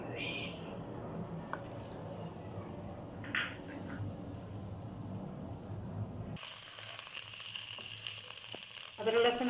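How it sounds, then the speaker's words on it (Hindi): Ginger and garlic fry in a pot for a chicken makhni handi, giving a steady low sizzle and crackle throughout, with a brief clatter midway and a brighter hiss toward the end. "अदरक लहसुन हमारा फ्राई हो गया।"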